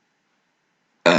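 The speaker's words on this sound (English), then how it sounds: "just had a burp there" A single short burp comes in abruptly after a second of silence, close and fairly loud.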